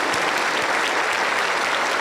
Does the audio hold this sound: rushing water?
no